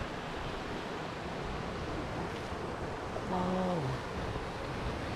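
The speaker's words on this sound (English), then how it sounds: "Atlantic Ocean out there, folks." Atlantic Ocean waves and wind roar at a cliff edge by Dunyvaig medieval castle on Islay, Scotland. A steady broad rush of surf and wind fills the whole stretch, and a voice briefly exclaims partway through.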